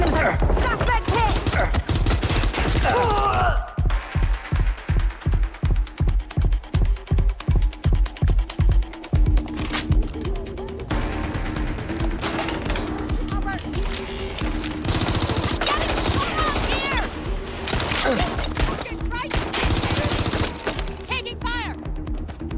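Video game gunfire in Watch Dogs: Legion: a rapid automatic burst and scattered loud shots crackle over a dense, noisy game soundscape, with voices calling out at times.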